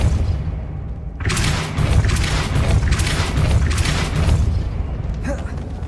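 A spell blast from a Harry Potter video game lands as a loud booming rumble that surges for several seconds with thudding bursts, then fades out near the end.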